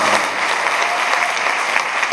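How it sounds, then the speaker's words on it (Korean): Steady applause from a concert audience at the finale of a Korean choral performance as the full cast takes the stage, dense and continuous clapping throughout. "보통 이때 박수 나오죠?"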